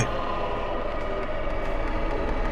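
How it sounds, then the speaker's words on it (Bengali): A train rumbles along the rails, a continuous low roar with rolling clatter, steady in loudness throughout. "ট্রেনটা হঠাৎ পিছনে সরে গেল"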